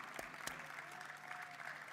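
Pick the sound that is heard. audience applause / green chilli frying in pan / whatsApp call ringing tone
audience applause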